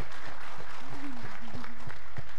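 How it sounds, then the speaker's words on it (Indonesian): Loud, close applause for children at a school health launch event, a dense crowd of hands clapping continuously, with a voice speaking over the clapping. "tepuk tangan dong sekali lagi buat adik-adik"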